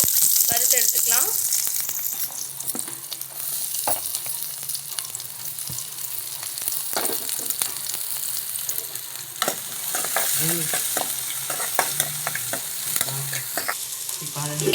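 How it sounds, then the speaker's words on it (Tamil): Chopped onions fry in hot oil in a pan for hotel-style channa masala, a continuous close sizzle with repeated spatula scrapes and stirs running throughout. "வெங்காயத்தை நல்லா போட்டு பொன்னிறம் வர வரைக்கும் வறுத்து எடுத்துக்கலாம்"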